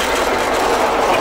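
Engine of a Fortschritt E303 mower revving up during haymaking, a loud steady mechanical roar with no speech.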